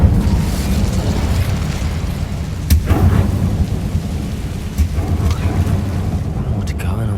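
An Incendio fire spell in Hogwarts Legacy erupts in a loud, rumbling roar with a few sharp bursts over a steady low-frequency wash, and a voice speaks amid the noise.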